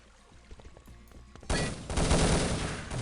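A short quiet spell with faint clicks gives way to a sudden loud burst of rapid gunfire in a multiplayer shooter match, dense and sustained to the end.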